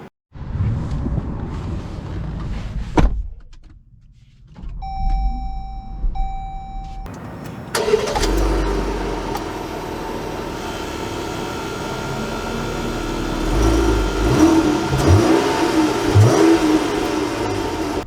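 A 2023 Jeep Grand Cherokee Summit starts after a quiet pause with a short whine and settles into a steady engine drone, which grows slightly louder as the SUV pulls away and drives on with road and wind noise.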